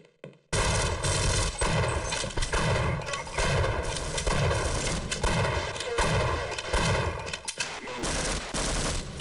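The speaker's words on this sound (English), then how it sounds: "Shotgun!" Shotgun blasts in the shooter Half-Life, a loud, dense run of repeated booming shots and impacts filling nearly the whole stretch after a brief quiet start, with game combat noise mixed in.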